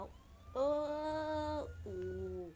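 A police car siren wails in the video game Crackdown, a loud wavering tone in two long sweeps separated by a short break, fairly close.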